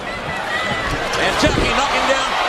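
In a wrestling ring, a stiff clothesline connects and a body thuds onto the mat, giving dull heavy impacts under a commentator's excited talk and a noisy arena crowd.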